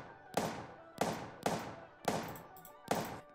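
Five sharp shots from a Model 29 revolver in the Apocalypse Rising game, each a loud crack trailing off in a short echoing decay, fired at roughly half-second intervals.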